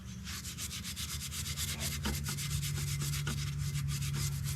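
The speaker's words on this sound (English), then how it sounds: "I just take and I go over it a little bit with my Scotch-Brite" A Scotch-Brite pad rubs back and forth across a surface close by, a continuous scratchy swishing with a faint rhythmic pulse of strokes and no voices.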